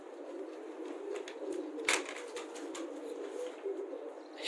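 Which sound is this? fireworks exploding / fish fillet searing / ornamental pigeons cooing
ornamental pigeons cooing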